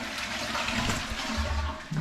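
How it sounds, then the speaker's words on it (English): A toilet with a pneumatic push-button flush empties in a steady rushing gush of water lasting about two seconds, close and loud, with no one talking. "We have a flushing toilet!"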